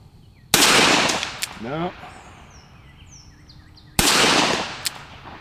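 Two sharp, loud shots from a Smith & Wesson Model 19 K-frame magnum revolver, about three and a half seconds apart, each with a short outdoor echo tail, while birds chirp faintly in the quiet gap between them.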